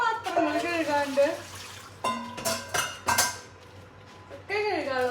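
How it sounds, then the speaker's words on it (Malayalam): Dishes and pots being washed at a sink produce intermittent metallic clinks and clatter, heard beneath a speaking voice. "കുറേ പാത്രങ്ങൾ കഴുകാണ്ട്."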